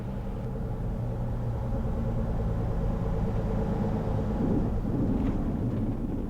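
A light aircraft engine drones as a steady, loud, close rumble during the landing approach, heard from the cockpit with no voices.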